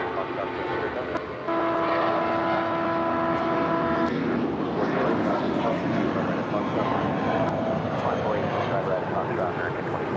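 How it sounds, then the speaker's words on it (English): A 20-year-old JetBlue Airbus A320 departs LAX for San Francisco, a loud, steady engine roar filling the scene while a tonal horn-like whine sits on top briefly early on, with voices talking underneath. "blue departing to San Francisco on this 20-year-old A320, JetBlue Airways Flight 2736"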